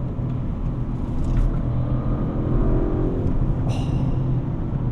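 An Audi RS6 Performance estate car accelerating hard, a deep continuous engine rumble with rising revs heard from inside the cabin, loud and steady with no talking.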